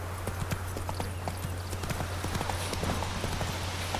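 Horse hooves clip-clop in a steady, rhythmic gait in the video game The Witcher III, moderately loud over a constant low in-game hum.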